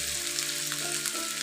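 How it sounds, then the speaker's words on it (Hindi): Ginger garlic paste sizzling in hot oil with onions and green chilies for a mustard greens saag tadka, a steady close frying hiss with soft crackles throughout and no talking. "अब इसमें मैं अदरक लहसुन का पेस्ट ऐड कर दूँगी।"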